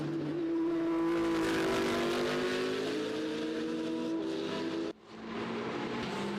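Loud race car engines at the Supercar Challenge at Circuit Zolder, a mix of inline-six, flat-six and naturally aspirated V8 cars, roaring steadily close by with shifting pitches, then a sudden drop near the end before resuming.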